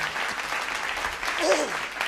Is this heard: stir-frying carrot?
no